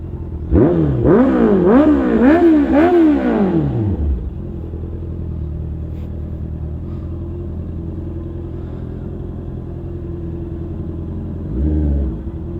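A Kawasaki ZX10R superbike engine revs hard several times in quick succession, loud and close, then drops to a steady idle rumble with a brief blip near the end.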